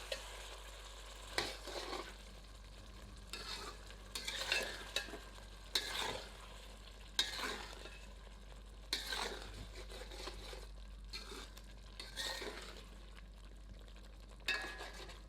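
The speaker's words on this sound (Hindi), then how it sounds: "तीव्र आंच पर इसे 1 से 2 मिनट भूनते हैं।" Chicken stir-fried on high heat in a pan, with a faint steady sizzle under repeated scraping strokes of a ladle against the metal, quiet and close with no talk.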